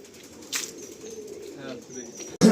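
Homing pigeons from a loft take off together, a brief burst of wing flapping near the start, then soft fluttering and faint rustle as the flock heads out, ending in a loud close knock.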